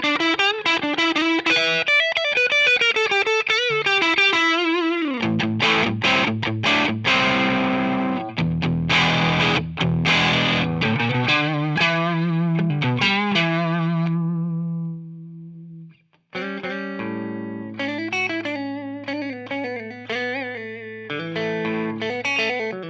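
Electric guitar through a Boss BD-2 Blues Driver overdrive pedal with a warm overdriven tone plays chords and single-note runs, sustained and slightly gritty, with no voices over it.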